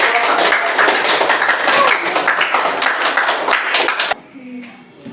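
Students clapping in an Indonesian school classroom during a teaching practice lesson: dense, lively hand claps for about four seconds that stop abruptly, leaving a quiet room with faint sounds.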